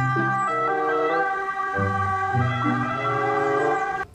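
A loud electronic siren from a toy ambulance car blares continuously, its tones stepping between two pitches in a bright, buzzy wail that cuts off abruptly.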